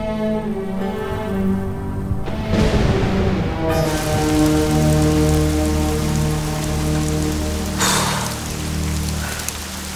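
Heavy rain pours down in a dense, unbroken patter on surfaces, loud and constant throughout, with soft musical tones running beneath it.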